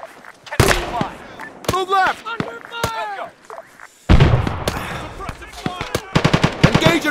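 Arma 3 combat with loud bursts of automatic gunfire and single sharp shots, dense volleys in the second half, with radio-style voices calling out between the shots.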